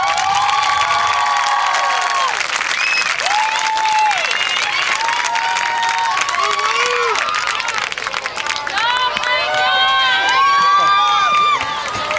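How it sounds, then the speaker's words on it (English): A stadium crowd at a high school homecoming football game applauds and cheers loudly, with sustained clapping, whoops and high shouting voices rising and falling throughout, swelling again near the end. "Let's give them a big round of applause."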